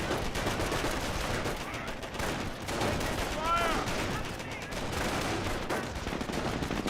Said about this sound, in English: Engineers firing away.